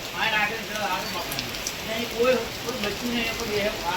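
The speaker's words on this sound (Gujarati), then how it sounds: "જોરદાર વરસાદ પડે ભાઈ અત્યારે" Steady rain pours down with a dense, even patter, while voices murmur faintly underneath.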